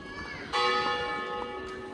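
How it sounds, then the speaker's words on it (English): Church bells in Serbia ring out in the distance, a sustained chime with lingering overtones, struck again faintly a couple of times over low background noise. "Church bells chime in."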